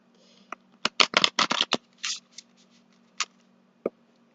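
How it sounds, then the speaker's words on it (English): A deck of tarot cards is shuffled up close, a quick burst of sharp riffling flutters followed by a few isolated taps and clicks, with no talking. "So I'm gonna start shuffling here for your next question"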